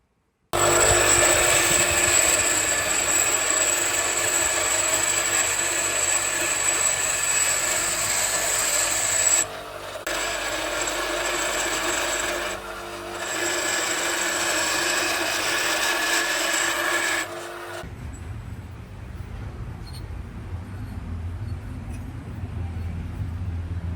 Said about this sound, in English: So we took it out for a quick grinding to make it sharp for finishing passes.